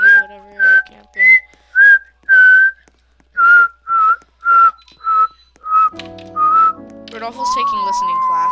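Clear, loud whistling of a short tune, a series of separate bright notes in rhythm, ending with a wavering sustained tone over faint background sounds.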